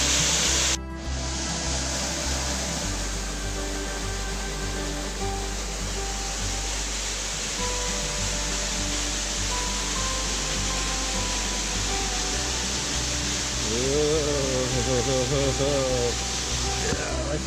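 A waterfall at Lugnasan, Siquijor pours in a constant broad roar close by, with a voice talking faintly over the rushing water.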